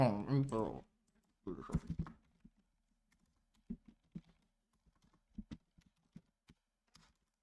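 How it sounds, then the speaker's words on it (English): Hard, deliberate typing on a computer keyboard: scattered sharp keystrokes tapping at an uneven pace, close and clear, after someone speaks briefly. "I be typing hard in the motherfucker."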